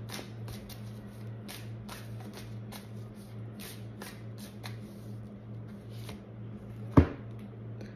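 A tarot deck is shuffled by hand in a quiet room, giving repeated soft riffling and flicking bursts at a steady pace and one sharper slap near the end, close and low in level.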